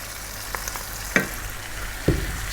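Fresh tomatoes with cumin and chili powder fry in a stew pot, a low background sizzle broken by two sharp scraping knocks of a spoon stirring against the pan.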